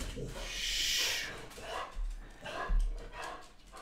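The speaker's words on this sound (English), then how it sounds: "But the dog is very excited." An excited dog barks indoors in a few quick, close bursts with whiny yips between them, and a voice speaks faintly underneath.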